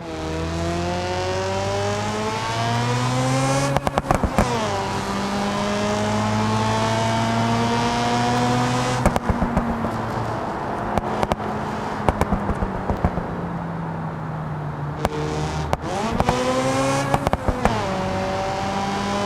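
A car engine in BeamNG revs up and down through gear changes with a steady harmonic drone, loud and close, and sharp pops and crackles as the throttle lifts.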